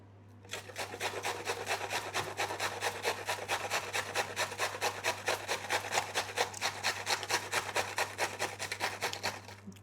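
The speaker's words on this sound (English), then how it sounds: "Give it a good grate. Goes in the slaw." A small piece of cabbage rubbed against a grater for slaw, a fast even back-and-forth rasp repeating steadily at close range over a low constant hum.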